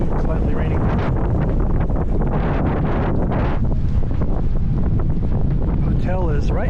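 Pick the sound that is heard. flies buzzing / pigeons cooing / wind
wind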